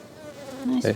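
Honey bees buzz steadily and close while a nuc is installed into a hive, a wavering drone that swells into a louder burst near the end.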